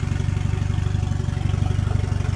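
A Volvo 740 engine runs steadily at idle, a close, continuous low rumble with a fast even pulse and no speech over it.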